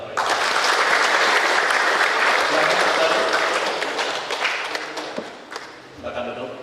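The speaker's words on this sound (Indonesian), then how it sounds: "Kasih tepuk tangan buat mereka." Loud, sustained applause from a crowd at a fire prevention and safety training event, strong and dense at first, then tapering off with a few scattered claps near the end.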